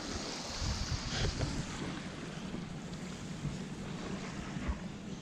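A boat motoring away from a harbour on Samos, its engine a steady low rumble blended with wind buffeting and water wash, continuous and fairly even throughout with no talk.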